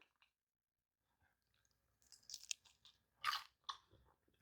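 Someone bites into crispy herb-seasoned roasted potato wedges dipped in ketchup, with a few close, faint crunches and soft chewing sounds after a near-silent start and no talking.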